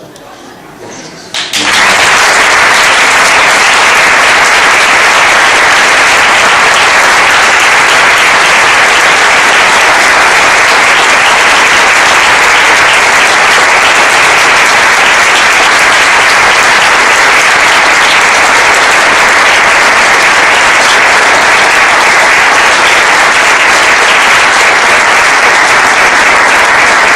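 Sustained applause from a seated audience at a tribute event in a hall, loud and dense clapping that starts abruptly after a brief quiet moment and carries on steadily with no break.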